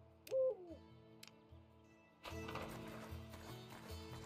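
A single clear owl hoot rings out near the start over steady ticking, followed by a burst of broadband rustling and handling noise that continues to the end.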